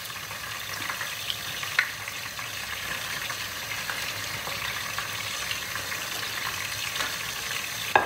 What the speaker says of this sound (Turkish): Hemen sıcak yağ atıyoruz. Attığımız gibi hemen çeviriyoruz.